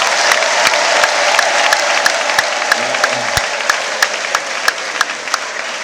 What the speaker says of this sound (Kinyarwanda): Duha Imana amashyi menshi cyane.